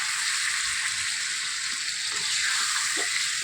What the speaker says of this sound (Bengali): এখন আমি জল দেব মাংসটা এখন আমি জল দেব